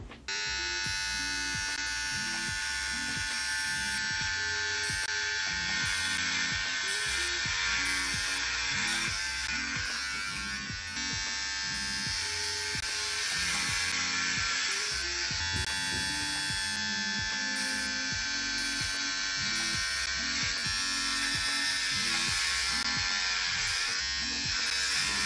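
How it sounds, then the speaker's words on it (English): Electric hair clippers buzz continuously and close up for over twenty seconds as hair is shaved off, the steady motor drone shifting slightly in pitch as the blades move through the hair. "Now I'm gonna shave this off."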